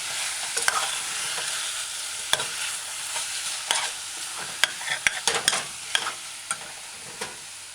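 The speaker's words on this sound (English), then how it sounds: "Add the other half herbal along with the other half salt to your stew. Stir it in, stir it in." A spoon stirs herbs and salt into a meatball tomato stew, with steady sizzling bubbling under scattered sharp scrapes and taps against the pot, close and moderately loud throughout.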